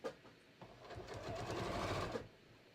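A sewing machine runs in a short burst while back tacking a seam on a pair of shorts, a quiet close whirring stitch rhythm that speeds up and then stops.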